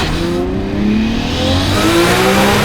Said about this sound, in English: We'll do a 15 mile an hour rolling start so you guys can kind of see where the turbo picks up